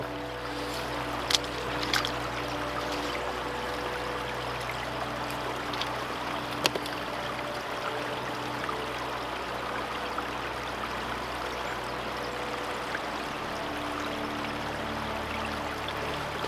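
Icy river in Yosemite in winter, flowing as a steady, continuous rushing wash of water with a few faint clicks and knocks nearby.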